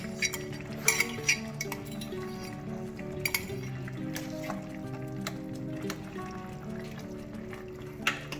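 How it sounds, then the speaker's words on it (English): Tomato paste is spooned into a cooking pot for Moroccan fish, giving scattered light metallic clinks and taps of a spoon against the pot over a quiet kitchen background. "So now I'm going to add the tomato paste to the pot."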